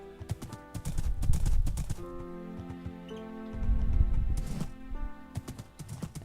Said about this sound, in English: Takes a full power jump for this horse to go 2 blocks.